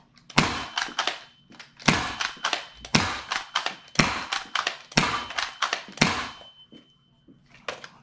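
Dart Zone Deuce Pro foam dart blaster fired rapidly, about six loud sharp snapping shots at a quick uneven rhythm, each with a short mechanical rattle, close by with no talking.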